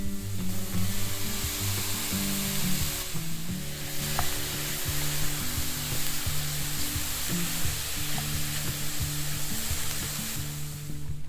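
Diced ham and onions sizzle steadily in a pot over a campfire, a loud continuous frying hiss up close with occasional stirring scrapes and no talk.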